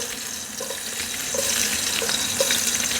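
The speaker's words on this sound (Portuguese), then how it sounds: "Já derreteu a banha aqui, agora eu já vou picar aqui uma cebola para ir fritando." Onion frying in melted lard in a rural home kitchen gives a continuous bright sizzle and crackle, close and steady, with occasional soft stirring bumps and no talking.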